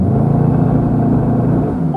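A 2018 Mercedes-AMG E63 S Wagon holding its engine at raised revs in launch control, brake and throttle pressed together: a loud, steady, deep rumble close by, with no talk over it.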